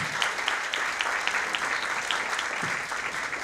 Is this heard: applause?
yes